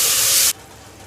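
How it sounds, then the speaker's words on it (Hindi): Beef keema hits a hot pan with a loud, bright sizzle that lasts about half a second and then cuts off abruptly to near quiet. "कीमा डाल को इसको 2 से 3 मिनट तक अच्छा सा फ्राई करेंगे।"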